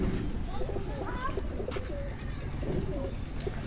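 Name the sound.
breeder pigeons cooing on a rooftop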